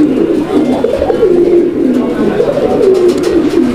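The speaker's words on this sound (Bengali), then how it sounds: "দেখছেন ডাক, গোপালগঞ্জের বড় পায়রা" Large Gopalganj pigeons cooing, loud and very close, a repeated rolling coo in a steady rhythm with no pauses.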